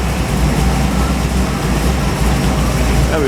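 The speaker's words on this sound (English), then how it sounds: "Fires up like a Cadillac. Good hot rod, lumpy thumpy idle." A small-block Chevy 383 hot rod engine idling up close, a loud, steady, deep rumbling throb that holds unbroken throughout.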